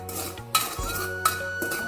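Metal spoon scraping and knocking in a pan while stirring and roasting kasar laddu mixture until reddish, a few sharp clinks and scrapes over a low steady hum.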